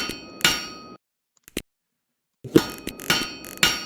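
Clanking hammer strikes from workshop construction in a video game sound in short bursts with metallic ringing, separated by a pause of silence. Close and fairly loud, with no voices.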